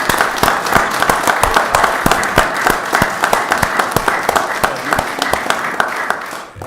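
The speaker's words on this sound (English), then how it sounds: "giving these 4 councilors a great round of applause" Council chamber audience in Auburn, Maine applauds four departing city councilors, a steady wash of many hands clapping with distinct sharp claps standing out, fairly close and sustained before tapering off at the end.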